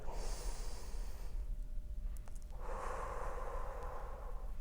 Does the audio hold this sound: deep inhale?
yes